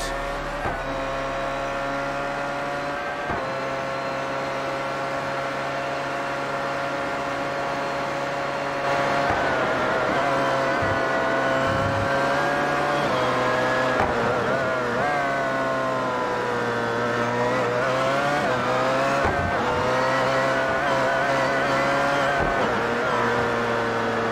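Onboard engine of a race car in the iRacing sim at the Nürburgring, a loud continuous high-revving drone rising and dropping through gear shifts.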